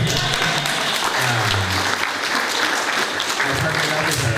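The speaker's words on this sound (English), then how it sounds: "I think that deserves a round of applause" A Juneteenth panel audience breaks into sustained, loud applause for the state's first Black female state senator, a thick wash of clapping that fills the room, with a low voice murmuring briefly beneath it.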